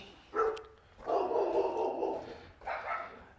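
A dog barks near a suburban house in Queen Creek, Arizona, a short yip followed by a longer bark and one more bark, moderately close and without talk.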